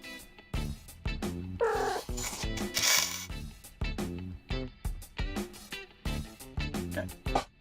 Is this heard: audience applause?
no